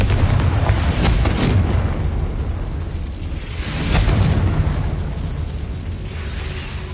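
In the Hogwarts Legacy video game, the Confringo spell bursts with two booming, rumbling explosions a few seconds apart, each swelling and then fading into a low roar.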